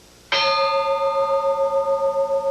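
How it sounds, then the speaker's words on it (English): An old lighthouse bell struck once by its hammer striker, a sharp metallic clang that rings on with a sustained, gently pulsing tone, loud and close with no talk. "This is this typical old bell striker, and unfortunately there are no more."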